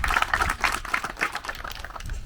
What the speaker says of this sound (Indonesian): Tepuk tangan sekali lagi untuk kriket NTT.